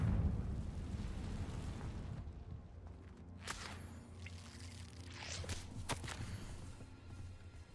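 A Confringo fire spell from Hogwarts Legacy bursts in a few muffled explosive pops and crackles over a low, steady in-game rumble, fairly quiet and distant.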